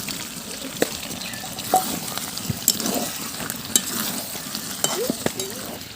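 Potatoes are stirred into chicken curry frying in a pan, with a continuous sizzle broken by scraping stirs and clinks of a spoon against metal, close by and with no talking.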